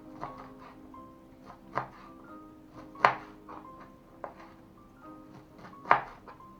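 Knife chopping fresh purslane on a board, crisp thuds and crunchy cuts in an uneven rhythm, close up, a few sharper chops standing out.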